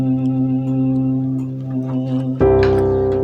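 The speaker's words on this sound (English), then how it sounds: "Your pad is this sound you hear." A keyboard pad-and-strings patch holds a sustained chord, smooth and steady, then a fuller, brighter chord swells in near the end; close and alone with no talking.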